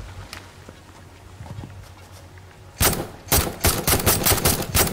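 Rifle shots in the Satisfactory video game: after a quiet stretch of faint ambient sound, a loud burst of rapid, sharp cracks fires in close succession, followed by several more evenly spaced shots.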